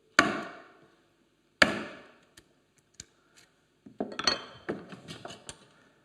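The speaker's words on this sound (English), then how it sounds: "Now I can take out some of the waste with a narrower chisel" A chisel bevel down cutting into pine wood: two sharp, loud cuts with short ringing decays, then a few light taps and a quick cluster of closer chopping strikes.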